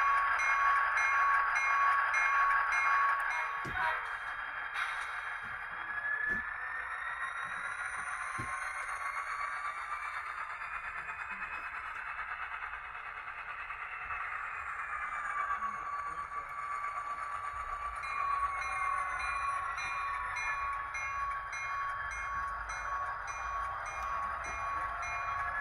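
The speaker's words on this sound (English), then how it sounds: "So that is a great sounding diesel locomotive" A Lionel or ScaleTrains model diesel locomotive runs with its electronic sound system, a sustained engine drone with shifting tonal layers and occasional clicks, moderately quiet and steady.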